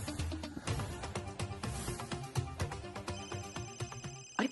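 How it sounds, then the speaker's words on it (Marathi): Mobile phone ringtone from an incoming call, a melodic electronic tune ringing in repeated bright pulses for several seconds, fairly quiet indoors with no one talking over it. "अरे, परत फोन येतोय."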